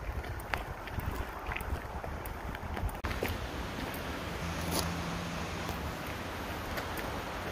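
Strong wind gusts buffet the microphone on a wide, easy hiking trail near Gatlinburg, a steady loud roar of broadband rumble lasting the whole stretch with no speech.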